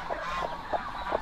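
A chicken among eggs hatched by a turkey gives four short, nasal, honk-like clucks at a steady, uneven rhythm. The calls are close and clear over low background noise.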